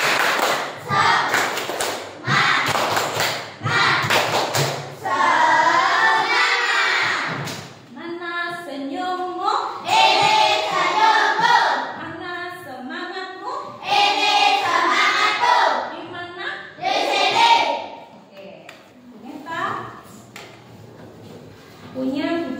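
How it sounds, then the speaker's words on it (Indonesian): A primary school class does a rhythmic spirit clap during a science lesson, bursts of sharp patterned claps followed by the children chanting together in unison, loud and close. "Bu Meta minta tepuk semangat"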